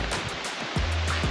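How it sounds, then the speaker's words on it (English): El Limón waterfall in Samaná pours with a steady, broad roar of falling water, fairly loud and continuous, with a few low thumps mixed in. "Waterfall."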